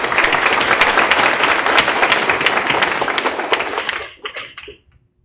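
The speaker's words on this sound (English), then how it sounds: "So please give her a big round of applause." Applause from the audience at a school board meeting for a student, a dense burst of clapping lasting about four seconds before tapering off into a few scattered claps and then silence.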